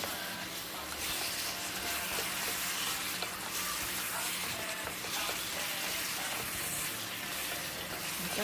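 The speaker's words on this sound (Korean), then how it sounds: "볶아놓은 춘장을 넣고" Black bean paste for jjajang sauce sizzles and crackles steadily in a hot pan as it is stir-fried and mixed, a continuous close frying hiss with occasional scraping of the stirring; no speech.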